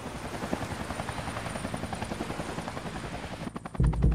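A helicopter's rotor thumps in a steady rapid pulse, close and loud, swelling into a heavier roar near the end.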